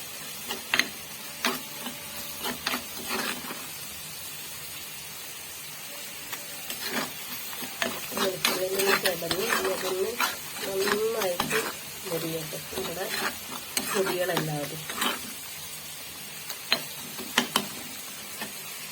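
Sardine curry ingredients are stirred in a frying pan with repeated scraping and clattering strokes over a low sizzle, while a faint voice murmurs through the middle stretch.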